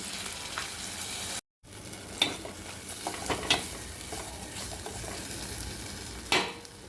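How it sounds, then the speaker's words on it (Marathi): Cashew, sesame and poppy seed paste sizzles steadily as it is sautéed and stirred in a pan, with a few louder scrapes and spatula knocks across the stretch; no one speaks. "काजू तीळ आणि खसखसची ही छान परतून घेऊया"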